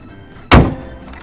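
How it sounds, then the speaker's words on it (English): A car hood is pushed closed with a single solid thunk, a short, loud impact that rings off briefly against a quiet background. "So now let's close the hood"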